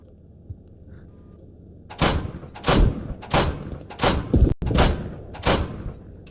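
Enemy gunfire in a tank battle video game featuring a Warrior vehicle: a quiet lull, then about six loud, booming shots spaced roughly a second apart, each with a ringing tail.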